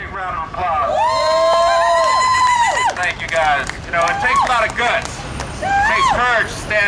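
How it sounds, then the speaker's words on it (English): Crowd at an outdoor indigenous day of resistance protest at the United Nations, cheering and shouting loudly with scattered claps, long rising whoops and calls dominating the stretch, close and energetic. "Round of applause."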